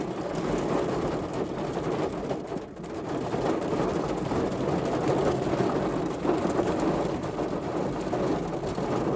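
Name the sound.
heavy rain coming down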